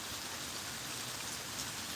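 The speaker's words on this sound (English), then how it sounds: "The sun is out and it's raining." Steady rain pattering down in daylight with the sun out, a continuous even hiss with no voices over it.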